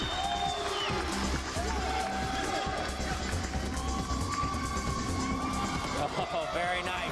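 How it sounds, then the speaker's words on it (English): Crowd at a taekwondo national tournament cheering and whooping in a large arena, a continuous roar with shouts and children's voices over it, moderately distant, while an announcer's voice is also heard. "The crowd is going crazy."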